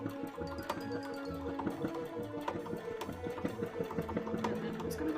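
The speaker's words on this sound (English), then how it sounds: "Sew up the edge and go down the center. Sew up the other edge." A sewing machine stitching an embroidery panel for a cosplay costume, a steady, quiet mechanical whirring with fast rhythmic needle ticking, running continuously and close.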